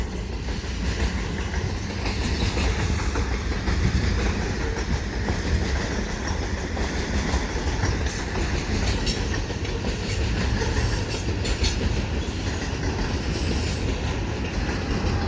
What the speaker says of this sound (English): And this is the second big train that came in east.